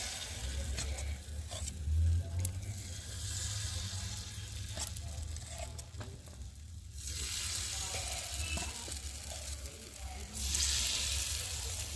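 Pitha rice cakes frying in oil in a pan, giving a soft, continuous close-up sizzle with a brief thump early on and occasional light stirring noises, no speech.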